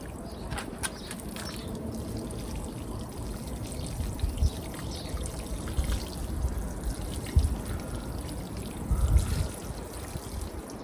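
Water poured onto garden plants outdoors, a steady splashing pour with trickling running throughout at moderate, fairly close level, swelling briefly near the end.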